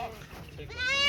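Goats on a goat farm raising milk goats: a single loud, close bleat swells up at the end after a brief stretch of low background noise and murmuring.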